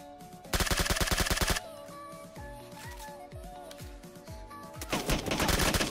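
Gunfire in the mobile battle-royale game PUBG Mobile from a Scar-L rifle, loud rapid automatic bursts at the start and end with quieter single shots between, over game music.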